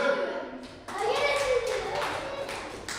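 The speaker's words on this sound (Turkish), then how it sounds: "Alkış." Schoolchildren in a classroom clap scattered applause for newly chosen class officers, mixed with children's voices and chatter.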